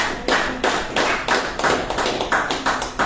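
A church congregation claps for the Lord in a slow, even rhythm, about nine or ten loud unison claps spaced roughly a third of a second apart, close and clear with no talk over them.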